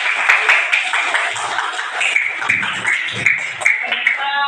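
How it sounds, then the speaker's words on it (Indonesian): Applause from a fourth-grade class fills the classroom with dense, steady clapping that holds for several seconds, fairly loud, with some background voices mixed in. "tepuk tangan buat kelas 4"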